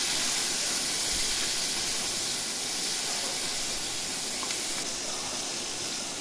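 Ivy gourd sautéing in oil with turmeric gives a dense, constant hissing sizzle, close and steady with no voices.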